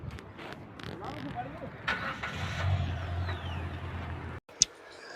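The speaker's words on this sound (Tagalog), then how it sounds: "umaandar na ang sasakyan kasi bagong-bago" A car's engine idles after repair with a steady low rumble for about four seconds before cutting off, followed by a sharp click, with voices faintly in the background.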